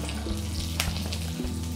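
Chopped green chili drops into hot oil with asafoetida and curry leaves for a tadka, giving a steady close sizzle and frying crackle with a few brief spatters.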